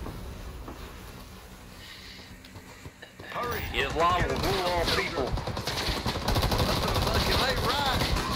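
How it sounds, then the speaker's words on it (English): War video game battle with gunfire and artillery, starting with low rumbling and mechanical noise, then breaking into loud, rapid bursts of machine-gun and rifle fire with heavy booms, while a voice talks over it. "now it's all their artillery"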